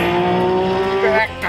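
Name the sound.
RUF race car engine in iRacing video game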